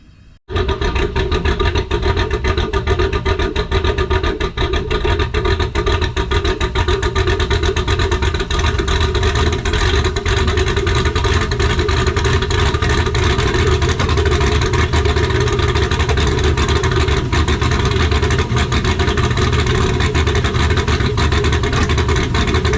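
A car engine, with a suspected cam sensor fault and smoking, runs steadily at a loud, close, constant drone for the whole stretch after a brief quiet start, with no talking over it.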